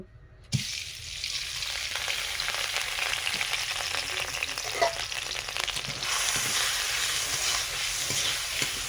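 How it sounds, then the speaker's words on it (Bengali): Lentils frying in hot white oil in a wok for khichdi, a loud continuous close sizzle that starts abruptly and stays steady, with occasional stirring clinks and no talk. "ভালো করে ডালগুলো একটু ভেজে নেব।"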